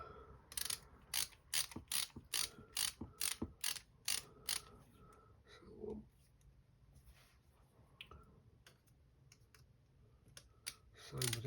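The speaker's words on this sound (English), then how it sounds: "Okay, let's grab my screwdriver handle, make it a bit easier. Okay, so we can tighten these down now." Screwdriver with handle tightening screws on a Lumenier QAV-S 5-inch freestyle quadcopter frame, a quick run of sharp ratcheting clicks in rhythmic bursts, then a quieter pause and a few more clicks near the end.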